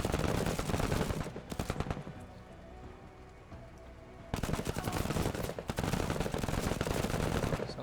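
Rapid gunfire is returned in the video game Menace, with dense bursts of automatic fire, a quieter lull of scattered shots in the middle, and then sustained loud volleys resuming.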